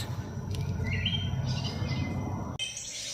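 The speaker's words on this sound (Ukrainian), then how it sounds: "застала пташку" A small bird chirps from a porch feeder outdoors: light, high tweets scattered over a steady low background hum.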